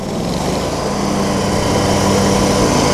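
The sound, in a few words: Cub Cadet 1440 riding mower engine throttling up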